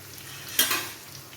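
Sliced onions drop into a hot pan of oil while a pork roast is being cooked. A sudden sharp sizzle bursts up, then settles into a soft, steady frying hiss.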